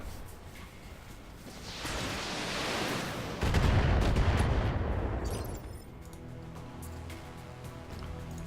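Weapons fire in the BattleTech video game swells into a heavy, rumbling barrage with a sharp boom midway. It then fades into a lower, ringing tail, with no voices.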